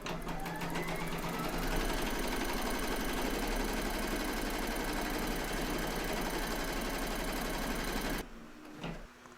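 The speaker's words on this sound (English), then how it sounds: "pop your hoop into your machine and stitch round number 2 to secure it" An embroidery machine hums and whirs while stitching through quilt batting in a hoop for a scalloped-edge baby quilt, a dense steady drone running close for about eight seconds before cutting off into quieter clicks.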